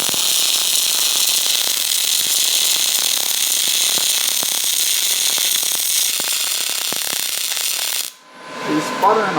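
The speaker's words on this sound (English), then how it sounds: "She's sputtering a lot. A little bit of sputter." A Prime Weld 285 MIG welder lays a bead, sputtering as it goes. It makes a loud, continuous crackling hiss with irregular pops, then cuts off abruptly near the end, leaving some quieter background noise.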